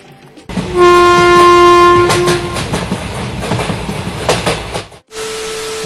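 Train at Bethua railway station, a loud sustained horn blast near the start followed by rumbling wheels and clattering carriages passing close by, ending with a second, lower horn tone.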